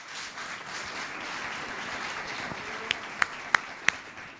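A church congregation breaks into a soft wash of applause that gradually thins out, ending with a few isolated, louder individual claps near the microphone.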